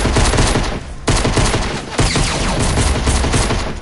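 Video game gunfire, loud and continuous, with rapid overlapping shots that briefly dip twice before surging back. The fire is close and dense and is not covered by talk.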